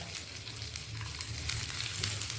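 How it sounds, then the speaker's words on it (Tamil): Curry leaves crackle and sizzle in hot tempering oil with dried red chillies while being stirred, a close, continuous frying hiss with small pops throughout. "கருவேப்பிலையும் போட்டு நல்லா கிண்டிடுங்க"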